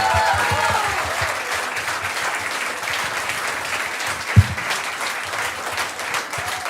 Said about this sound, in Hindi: तो मैं एक बार ही चाहता हूँ जोरदार तालियां उस शख्स के लिए हो रहा है।